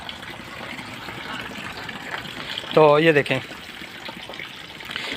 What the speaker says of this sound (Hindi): पानी चल रहा है,